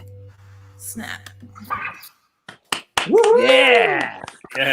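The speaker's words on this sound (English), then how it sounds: "Snap." A single sharp finger snap rings out during a casual online chat show, landing in a short gap between muffled voices before a sung, drawn-out vocal takes over.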